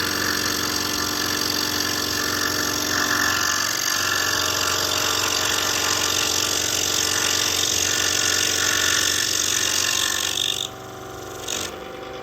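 A Bauer router fitted with a quarter-inch round-over bit shapes the edges of a wooden side shelf, giving a loud, steady motor whine that runs for about ten seconds before cutting off.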